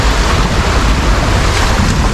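Fast, swollen river on a trail to the Coban Srikandi waterfall, a loud, dense rush of water close by, churning without pause and buffeted by wind noise.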